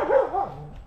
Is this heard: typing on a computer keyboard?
no